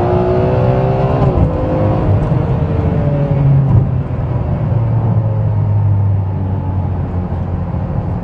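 A 2008 Ferrari 599 GTB Fiorano engine on a private race course drops from fourth to third at 56 mph, then pulls hard. The loud, close, sustained roar rises in pitch through a long acceleration.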